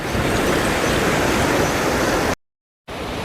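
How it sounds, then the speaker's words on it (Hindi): The flooded Ganges at Haridwar after a night of heavy rain surges in a loud, dense, continuous roar of rushing water and breaking waves, cut off by a short silent gap before the roar resumes. "समुद्र से भी ऊंची ऊंची लहरें आज माँ गंगा के जल में निकल रही है"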